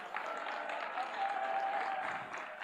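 Applause from an audience at a nursing and midwifery student quiz event in Uganda: a steady, dense wash of many hands clapping at a constant moderate level with no pauses, heard alone.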